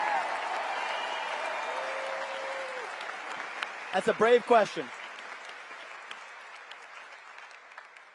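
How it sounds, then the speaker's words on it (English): Applause from a large audience fills the hall at a conservative political conference, a broad even wash of clapping that stays steady throughout, with someone speaking briefly over it partway through. "Give this woman, young woman, a round of applause."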